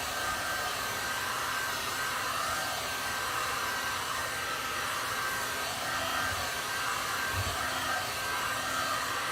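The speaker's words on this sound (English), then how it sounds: "Hair dryer on the highest setting." A hair dryer runs on its highest setting with a steady, loud, continuous blowing roar that holds evenly throughout, with no voices.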